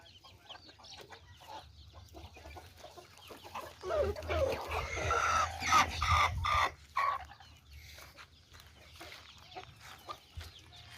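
Chickens and a rooster on a poultry farm cluck and squawk in a lively burst at mid-distance, rising loudly in the middle and then tapering off to scattered quiet clucks over a low hum.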